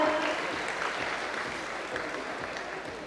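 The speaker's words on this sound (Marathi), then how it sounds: "वरुण धवन यांच्यासाठी पुन्हा एकदा जोरदार टाळ्या होऊन जाऊ द्या." Audience applause for actor Varun Dhawan at the Maharashtrian of the Year 2023 awards ceremony, a steady, dense wash of clapping from a large crowd that holds throughout without pause.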